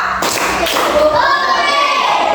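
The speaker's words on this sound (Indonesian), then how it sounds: "Tepuk satu. Tepuk dua." Children in a classroom clap together in short rhythmic bursts, a few loud, close thuds amid kids' voices and chatter.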